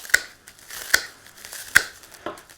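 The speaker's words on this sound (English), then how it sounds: "I'm just using these secateurs because they're nice and strong and we can just go right through it" Strong secateurs snip through dried flower stems, giving three crisp, close cracks spaced under a second apart, then a softer fourth cut, with faint rustling of the dry stems between.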